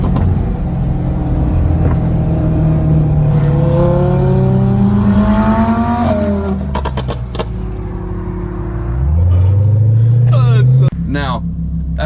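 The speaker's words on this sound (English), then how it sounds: "Another pro would have to be the sound of this car, especially with the Soul Performance straight pipes on it." A Lamborghini Huracan fitted with Soul Performance straight pipes revs loudly and close, its exhaust climbing in a rising wail, dropping away with crackles, then rising again before a sharp cutoff.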